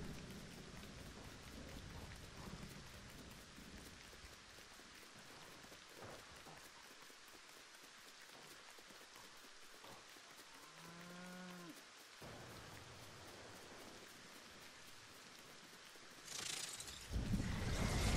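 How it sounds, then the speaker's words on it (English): Steady rain falls in the Fortnite video game, a continuous hiss with no voices, briefly thinning partway through before growing louder again near the end. "And then now it's raining again."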